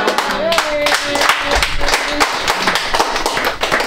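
A church congregation claps during a service, with sharp irregular claps and thumps under a voice speaking over them.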